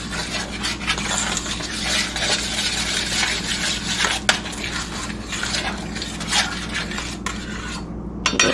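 A utensil scrapes and stirs brown sugar around a pan as it melts, a continuous rough rubbing with occasional clinks against the pan, close and fairly loud.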